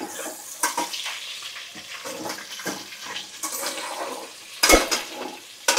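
Onions and green chillies fry in a pan, a soft sizzle broken by scraping and stirring strokes, with one sharp metallic clatter near the end; no one speaks.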